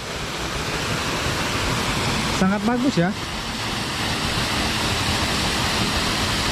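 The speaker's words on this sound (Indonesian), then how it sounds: "Ternyata ini adalah salah satu air terjun" Steady broadband rush of the Tibu Sampi waterfall in Gunung Salak village, Tabanan, Bali, fills the whole clip, with a person briefly speaking over it near the middle.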